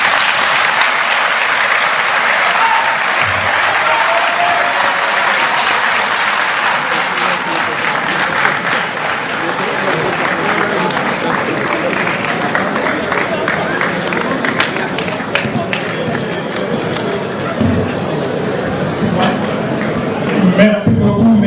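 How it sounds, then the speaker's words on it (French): A large crowd gives long, sustained applause after a speech by the prime minister. The clapping is loud and unbroken, with crowd murmur and a few scattered cheers mixed in. "les applaudissements ne sont pas à la hauteur de la production"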